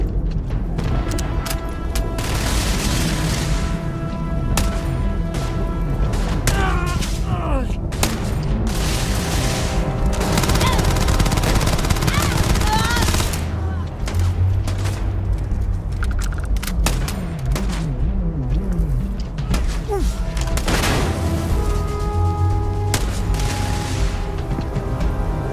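Sustained gunfire and explosions in a Starfield firefight on Very Hard difficulty: loud, continuous volleys of shots and booms filling the whole stretch, with no clear gaps.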